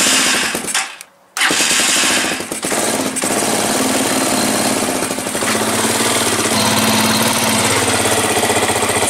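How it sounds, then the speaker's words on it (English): A TBR7 motorbike engine, not run in a while, is fired up after a brief pause and settles into a loud, steady, rattling idle close by. "So we'll turn the TBR7 on, fire it up."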